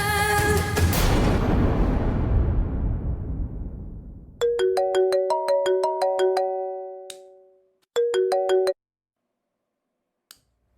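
A phone ringtone chimes in a bright, repeating melodic pattern, stops, then plays again briefly, with a louder burst of music fading out before it begins.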